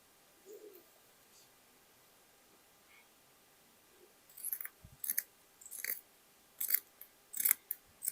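Scissors snip through leather being cut for a sling bag, a run of short crisp cuts in quick groups coming after a quiet stretch, close and fairly faint.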